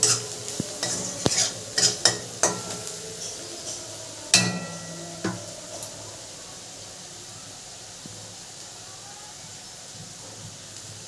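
Cumin and chili powder are stirred in a pan with fried onion, opening with a quick run of loud spoon scrapes and clinks against the metal, then settling into a quieter, steady sizzle with occasional taps.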